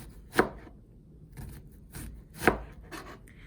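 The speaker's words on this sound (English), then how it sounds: "Get that onion diced up." A knife dices an onion on a cutting board, a few distinct chopping strikes spaced unevenly with softer scraping between them, close and fairly quiet.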